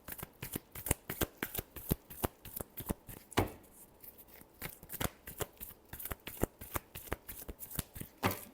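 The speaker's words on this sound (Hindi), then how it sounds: "last shuffle" Tarot cards being shuffled by hand, close and fairly quiet, with steady repeated riffling slaps and short pauses between passes, no voices.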